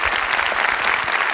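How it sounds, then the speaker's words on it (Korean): Audience applause breaks out at a live architecture talk-show event after an introduction, a dense, steady wash of many hands clapping close by, with no talking over it. "박수 부탁드리겠습니다."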